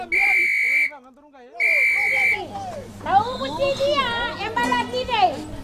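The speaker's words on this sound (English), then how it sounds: "That whistle sound is for who?" A shrill whistle blows in two long blasts, then children's voices chatter loudly nearby.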